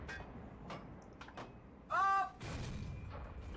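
A tank cannon fires once in World of Tanks on the Glacier map, a single loud mid-range blast with a short ringing tail, followed by lower rumbling game ambience.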